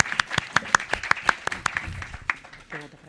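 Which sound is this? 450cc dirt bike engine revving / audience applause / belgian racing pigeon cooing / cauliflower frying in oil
audience applause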